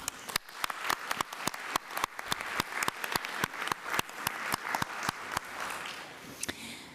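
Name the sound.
audience applause for academy inductees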